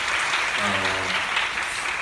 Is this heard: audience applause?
yes